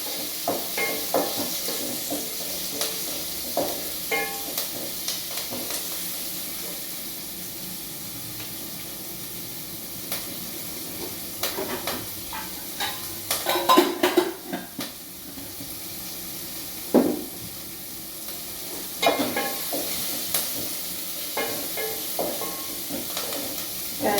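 Ridge gourd being fried and stirred in a tempering of hot oil, a steady soft sizzle and hiss running throughout with occasional scraping clinks of the spoon against the pan.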